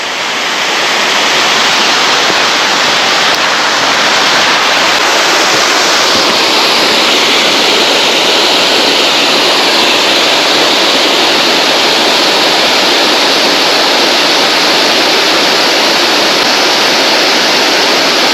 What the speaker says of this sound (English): Well worth it just to see the waterfalls.